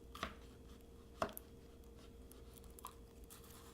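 A knife chops through a vegetable on a cutting board, with a few sharp, separate cuts: first a loud one, then a second, then a fainter one, and no talking.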